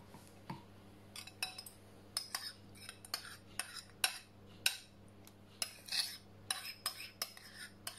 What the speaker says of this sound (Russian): И все еще раз размешиваем.